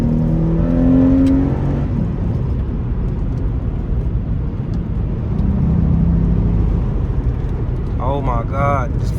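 Acura TL Type-S V6 heard from inside the cabin while driving, a steady engine drone with light throttle rising under road and wind noise, and a voice speaks briefly near the end.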